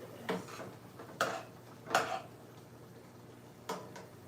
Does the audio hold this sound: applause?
no